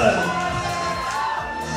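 Party crowd at a birthday celebration cheering and whooping loudly as someone arrives, a dense continuous roar of voices with shouts rising out of it throughout.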